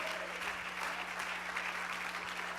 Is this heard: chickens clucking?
no